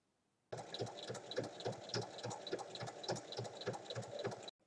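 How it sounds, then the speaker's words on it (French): A sewing machine runs steadily while topstitching along a fabric pouch, a close, continuous rapid needle chatter that starts abruptly and stops after about four seconds. "je vais faire une surpiqûre tout du long"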